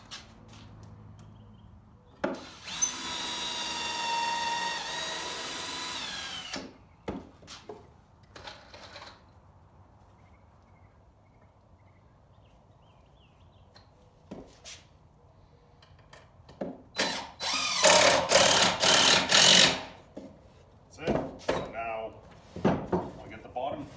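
Power drill driving screws into a wooden two-bucket planter, two loud bursts of whirring motor and grinding screw, close by, separated by quiet handling noises.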